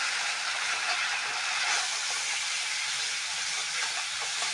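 Spice paste fries in a pan with turmeric and salt for a Bengali dish of taro stolons, pumpkin and dried fish, a dense and steady close hiss and sizzle, loud and unbroken, with no voices.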